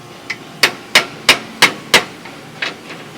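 A hammer smacks metal on a big homemade charge air cooler for a pull truck: five sharp, loud, ringing blows about a third of a second apart, then a few lighter taps, close by and with no talking.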